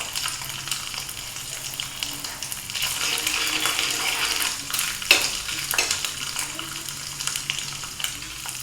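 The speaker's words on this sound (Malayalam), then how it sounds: "നമുക്ക് കുറച്ച് തേങ്ങ ഇതുപോലെ കൊത്തി അരിഞ്ഞത് ഇട്ട് കൊടുക്കാം." Finely chopped coconut sizzling and roasting in a pan for payasam, a steady crackling fry with occasional scrapes and clinks of a spoon stirring against the pan.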